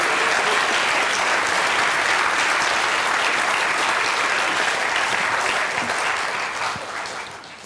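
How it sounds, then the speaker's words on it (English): A large audience claps in a dense, sustained burst of applause that holds steady before tapering off near the end. "Y'all can clap for that if you want to."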